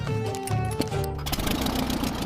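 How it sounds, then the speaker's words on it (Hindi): A cheap small plane's engine runs with a buzzy, rattling drone much like a lawn mower, loud and close throughout, rougher and noisier in its second half. "इसकी आवाज लॉन मोवर इंजन जैसी क्यों है?"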